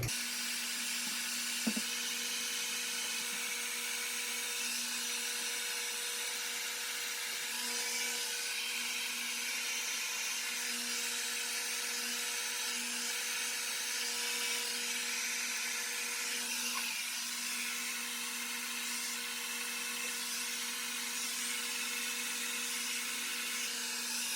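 Hair dryer blowing on curly hair, a steady close whirring hum with a constant airy rush that runs unbroken throughout.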